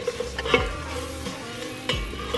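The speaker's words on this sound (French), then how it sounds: "mes petits oignons ils sont en train de rissoler" Small onions sizzle in a frying pan while a utensil stirs them, with a few scraping strokes over a steady close fry and no talking.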